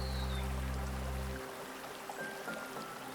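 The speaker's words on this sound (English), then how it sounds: "It is a small but delightful waterfall, 30 feet or 9 meters high, cascading down sandy steps." Lower North Falls in Silver Falls Park, a small 30-foot waterfall cascading down sandy steps, gives a steady, even rush of falling water, with a low hum at the start and no voices.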